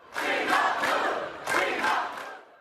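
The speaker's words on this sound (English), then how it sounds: "Columbia University's acting president, award-winning journalist Claire Shipman, was booed while giving a speech during the Columbia College commencement ceremony" A large commencement crowd at Columbia College jeers and boos loudly in two sustained surges, the second swelling after a brief dip, with no speech audible over the noise.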